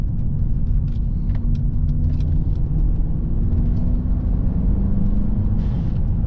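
Mercedes-Maybach GLS 900 Brabus Rocket, 900 horsepower, accelerating at partial throttle, with a deep continuous engine rumble and turbochargers heard from inside the cabin, loud and steady throughout.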